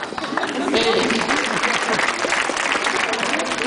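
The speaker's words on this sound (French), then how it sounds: "il faut encore une fois applaudir très fort" A seated audience at a Lantern Festival ambassador's speech applauds loudly, dense sustained clapping filling the whole stretch with a faint voice underneath.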